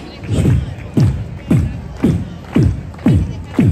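A London street crowd claps along in time with a harmonica street performer, about seven heavy, evenly spaced beats roughly every half second over a low crowd murmur.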